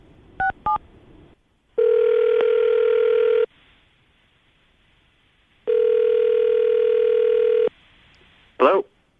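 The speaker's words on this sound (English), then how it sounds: "I'm about to dial the phone number you gave us" Two quick dialing tones, then two long steady ringback tones separated by a pause, ending with a short click as the call connects.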